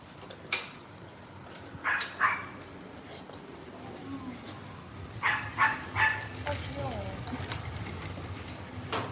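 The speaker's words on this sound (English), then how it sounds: "why is this doggy barking so hard?" Dog barking repeatedly in short bursts on a city street in Setagaya, Tokyo, fairly close and loud over background street noise.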